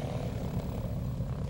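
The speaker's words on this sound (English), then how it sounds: "We have a twin engine coming in behind us." A twin-engine airplane approaches from behind, its steady engine and propeller drone faint and continuous beneath the ambient cabin hum.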